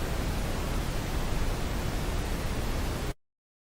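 Steady broadband noise track used as a mixing reference in FL Studio, a constant hiss like pink noise holding at an even moderate level for about three seconds before cutting off abruptly into silence.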